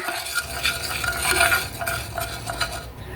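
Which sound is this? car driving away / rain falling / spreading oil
spreading oil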